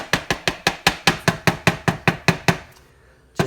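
A cake pan of butter cake batter is banged repeatedly on a kitchen counter to settle it, about fourteen sharp, loud, evenly spaced knocks in quick succession, then a pause and one more knock.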